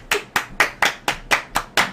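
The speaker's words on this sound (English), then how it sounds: "Golf clap. Golf clap." Eight evenly spaced, crisp hand claps in a slow, polite golf-clap rhythm, close and clear with no talking.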